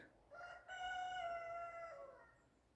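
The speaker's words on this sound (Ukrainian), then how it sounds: "Півень співає." A single rooster crows once in a long, drawn-out call, faint and somewhat distant over a quiet outdoor background.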